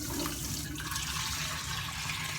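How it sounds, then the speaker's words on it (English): Water pours steadily into a pressure cooker in a kitchen, a continuous quiet splashing and rushing stream lasting a couple of seconds without pause or voices. "I'm going to put a little bit of water in this pressure cooker."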